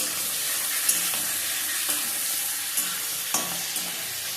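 Prawns, cut and washed, frying in a pan, a steady bright sizzle with a few sharp spatula taps on the pan, alone without talk.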